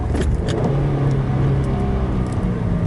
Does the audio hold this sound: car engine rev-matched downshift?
yes